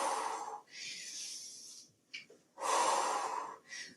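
Heavy breathing during a resistance band exercise comes as long, forceful breaths close to the microphone, with a few strong airy exhales and inhales and a short huff between them.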